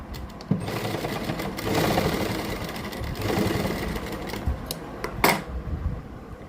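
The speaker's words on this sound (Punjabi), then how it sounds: "ਇੱਥੇ ਆਪਾਂ ਡਬਲ ਸਲਾਈ ਕਰ ਦਿਆਂਗੇ" Sewing machine running a double line of stitching on a garment shoulder, a close rapid mechanical whir in several bursts with short pauses and a couple of sharp clicks between runs.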